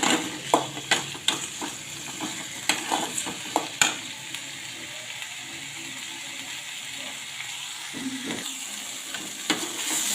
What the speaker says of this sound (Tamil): இந்த வெங்காயம் தக்காளியோட அதுவும் நல்லா சேர்ந்து ஒரு ரெண்டு நிமிஷம் வதக்கலாம்